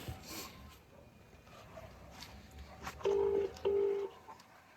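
Two short electronic keypad tones sound in quick succession, fairly clear against a quiet background with faint room noise.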